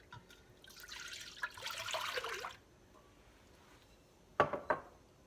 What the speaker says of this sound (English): the first thing we're going to add is 6 cups of milk